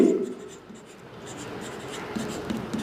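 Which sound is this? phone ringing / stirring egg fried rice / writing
writing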